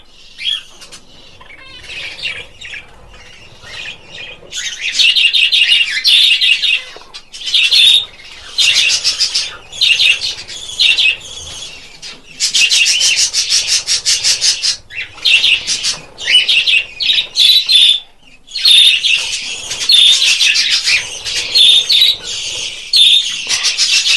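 Pet finches in a cage chirp in dense, bright bursts of rapid tweets, close by and loud, separated by brief pauses, with occasional wing flutters.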